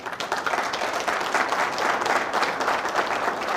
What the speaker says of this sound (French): Je vous prie de vous lever pour que la salle vous acclame